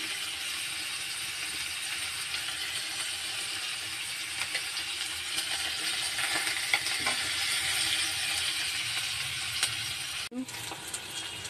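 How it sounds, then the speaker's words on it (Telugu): Green chillies, ginger and curry leaves fry in oil for a yogurt chutney, giving a long, even sizzling hiss close by, with a brief clunk of a utensil near the end. "ఇది ఒక 2 మినిట్స్ బాగా వేగాలండి. కొంచెం కరివేపాకు కూడాను."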